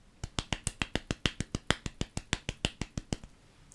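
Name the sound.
a little applause by hand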